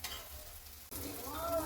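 A coconut-based mixture sizzles in a pan over a low flame while being stirred, with the frying noise rising after a brief pause and scraping strokes continuing alone.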